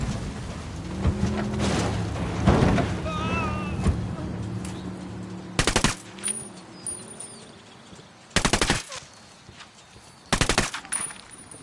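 Machine gun fire in a video game rips out in three distinct loud bursts, following an earlier stretch of ambient music and hum, close and punchy with short gaps between volleys.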